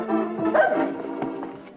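A dog on a 1949 Howdy Doody television broadcast gives a short yappy bark followed by brief whimpering yips, fairly close and clear, with old broadcast tone.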